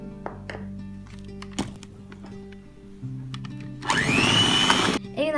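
An electric mixer beats cake batter for a tres leches milk cake, switching on loud and whirring steadily for about a second before cutting off, after quieter kitchen clinks and hum.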